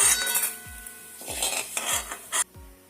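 A spoon scrapes and knocks against a kadhai while golden-roasted rice for kheer is moved into a vessel, giving close, repeated metallic scrapes and clinks with soft thumps.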